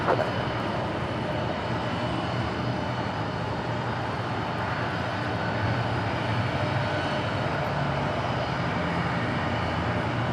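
A jet airliner takes off from runway 25 right at LAX, its engines a broad, steady roar held for the whole stretch.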